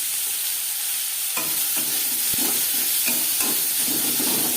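Chopped onions fry in oil already used for frying fish, a loud, continuous sizzle broken by repeated scraping strokes of a stirring spoon against the pan.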